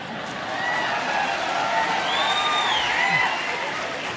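Audience applause with scattered whoops at a minister's speech at Jammu University, a dense steady wash of clapping and crowd noise holding for several seconds.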